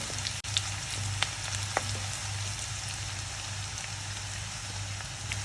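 Chopped shallots and curry leaves frying in hot oil for an egg curry, a steady, fine crackling sizzle that holds evenly throughout, with a low hum beneath and a couple of faint clicks.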